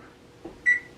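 A soft click followed by a single short, high electronic beep from a microwave oven, close by in a quiet room.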